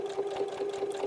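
A sewing machine stitches around a fabric bookmark, its motor humming steadily with a fast, even chatter of the needle, close and alone.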